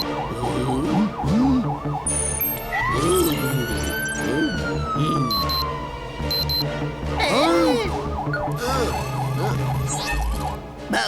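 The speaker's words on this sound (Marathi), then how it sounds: "कधी फायर ब्रिगेड, कधी पोलिसांच्या गाडीचे सायरन का वाजतात?" Cartoon emergency vehicle sirens wail and warble loudly, several tones overlapping with rising and falling sweeps and a long whooping glide, over a busy animated soundtrack with no speech.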